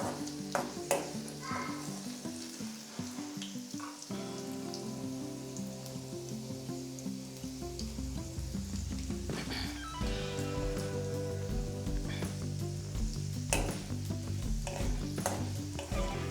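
Garlic fries in a pan for bitter gourd masala, a steady close sizzle and crackle with scattered stirring clatters and pops throughout, no voices heard.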